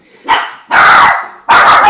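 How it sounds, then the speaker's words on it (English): A pet dog barks in three loud, close bursts indoors, each sharp bark ringing out with short gaps between them. "that's my dog Daisy."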